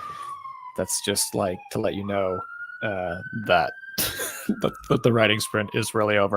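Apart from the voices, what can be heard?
police sirens in the background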